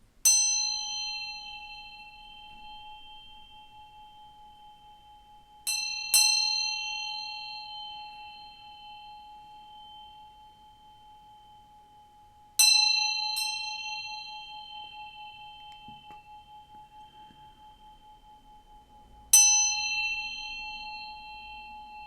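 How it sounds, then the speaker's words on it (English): A hand bell rung in a quiet room: bright, clear strikes, single or in quick pairs, spaced several seconds apart. Each ring hangs and slowly fades before the next. "I'm going to ring this bell to bring in some good vibes"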